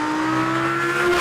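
A Jaguar XJ220 supercar engine holding a loud, steady high-revving drone up close, with a strong tonal hum throughout a short burst and no talk.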